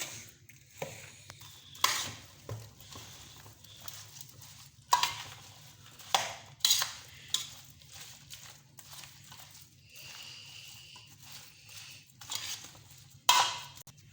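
A spoon scrapes and knocks against a pot while mixed vegetable achar pickle is stirred with spices, giving irregular clinks and scraping strokes at moderate volume with quiet pauses between them.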